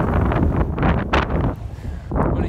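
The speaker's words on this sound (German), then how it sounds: "Ich mache eine Aufnahme, um zu zeigen, wie verdammt windig es ist." Strong wind buffeting the microphone in loud, uneven rumbling gusts with brief lulls between them.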